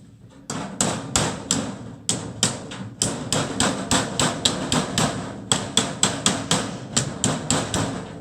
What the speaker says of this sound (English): I'm going to take the hammer.